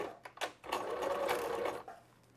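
A sewing machine stitches leg elastic onto a cloth diaper, a few short stuttering bursts then a steady rapid run of stitching for about a second before slowing, quiet and close.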